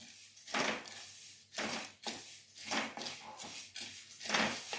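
Faint, irregular bursts of crackling and popping as seeds dry roast in a pan, arriving in uneven clusters every second or so.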